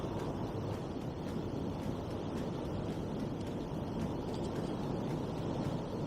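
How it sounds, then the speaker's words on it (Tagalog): Steady wind roar buffeting a microphone on a moving Suzuki Skydrive Sport (Nex II) scooter ride, a continuous low rumble filling the whole stretch with no talk over it. "Dito pa nga lang tayo, mahangin na."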